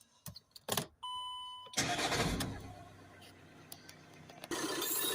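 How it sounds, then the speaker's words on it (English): A VW Crafter 2.0 TDI van with coolant pump and DPF faults is started by hand: a few clicks and a warning beep, then the starter cranks, the diesel catches and settles into a close, steady idle. "we'll start the van up and run it"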